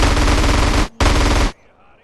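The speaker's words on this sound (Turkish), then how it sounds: "şimdi tak tak beni vuruyor ya" Loud, dense automatic gunfire aimed at the player in GTA San Andreas: two long sustained bursts split by a brief gap, close and overpowering, then cutting off to near silence.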